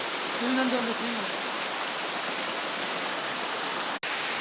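Heavy monsoon rain in Kerala hills pours down in a constant loud hiss, with a faint voice briefly under it and a short dropout near the end.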